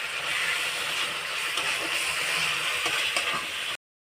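Water comes to a boil in a pot of Bengali egg curry, a steady broadband hiss with faint bubbling clicks, running unbroken until it cuts off abruptly.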